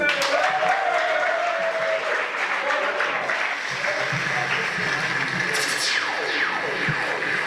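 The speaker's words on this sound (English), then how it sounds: "Applaudissez pour vous-même." A matriculation ceremony audience applauding in a sustained, even wash of clapping, with a faint voice and a brief whistle-like sweep near the end.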